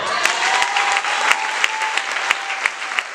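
A church congregation applauds in acclamation of the Lord, a dense, steady burst of clapping from a sizable crowd with sharper individual claps standing out near the front.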